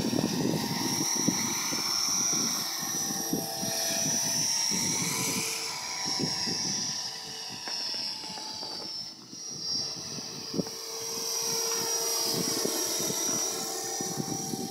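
An Align T-Rex 450 RC helicopter fitted with a scale Hughes 500 fuselage spins up for launch, a steady high-pitched whine of the motor and rotor buzzing continuously and fairly close.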